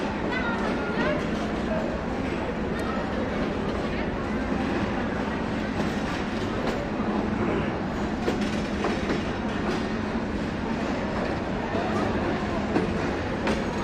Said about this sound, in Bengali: আন্তনগর রংপুর এক্সপ্রেস ট্রেনটি ঢাকা থেকে ছেড়ে আসা নাটোর রেল স্টেশনে নির্ধারিত সময় যাত্রা বিরতি সম্পূর্ণ করে ট্রেনটি এখন রংপুরের উদ্দেশ্যে ছেড়ে যাচ্ছে।